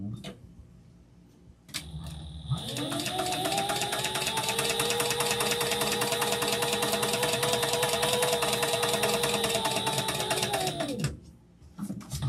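A sewing machine runs steadily for about nine seconds while quilting a Halloween book-lovers panel tote bag, with a constant motor whir and rapid needle clatter up close, and brief quiet handling before and after.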